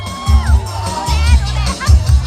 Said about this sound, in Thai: ขอเสียงกองเชียร์